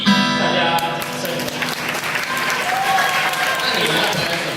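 An audience claps for the guitarist of a Chinese youth band at a live stage show, with steady, dense applause running the whole time and a mix of crowd noise and voices underneath.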